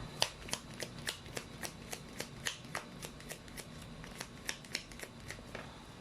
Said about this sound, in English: let me just pull up all of the cards here